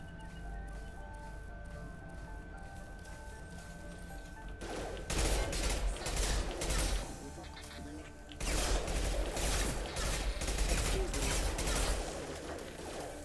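Assault rifle fire in a Mass Effect 2 battle comes in long dense bursts of rapid shots, loud and sustained with a short gap between volleys, over game ambience.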